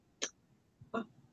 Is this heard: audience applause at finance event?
no